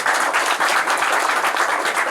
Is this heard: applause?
yes